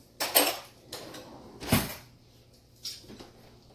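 A pan of keto baked chicken handled at an oven, giving three or four separate clattering knocks and scrapes of metal and an oven door, spaced apart against a quiet kitchen.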